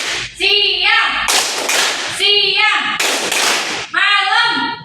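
Group hand clapping during a call-and-response clap game: bursts of sharp claps alternate with a leader's chanted voice, the claps loud and close, clustered into short rhythmic volleys between spoken lines.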